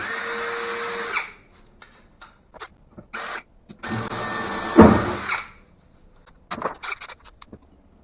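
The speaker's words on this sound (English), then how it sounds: "I got ready to do my second hole here and just bent that pilot drill" A power drill runs a pilot drill bit in short bursts, a long whir at the start and another midway, with quieter clicks and brief tool noises between, fairly close.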